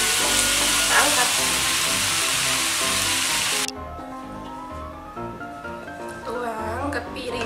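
Bean sprouts stir-fried with salted fish sizzle loudly in a hot pan, with scraping stirs; the frying drops away abruptly midway, leaving quieter clatter and faint sizzling.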